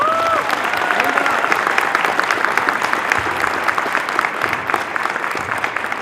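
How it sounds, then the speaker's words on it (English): A crowd applauds at a high school gym dedication, steady dense clapping that fills the room, evenly sustained throughout with a faint voice briefly heard at the start. "So I'd like to give her a round of applause."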